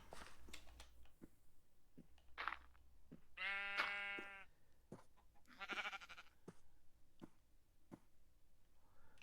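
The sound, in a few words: sheep bleating in a video game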